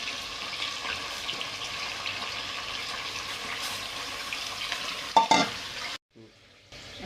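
Chicken with turmeric fries in hot oil in a pressure cooker, giving a continuous close sizzle, then a short clatter of stirring before it falls almost silent.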